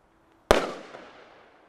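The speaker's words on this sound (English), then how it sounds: "This effect is called a mortar hit." A pyrotechnic mortar hit effect, a single sharp, loud blast set off close by, followed by a rumbling decay that fades over the next second.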